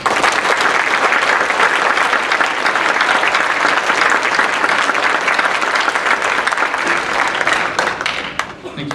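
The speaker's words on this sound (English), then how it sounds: "Give them all a round of applause." Sustained audience applause fills a hall after an orchestra concert, a dense steady roar of many hands clapping that holds loud throughout and fades slightly at the very end.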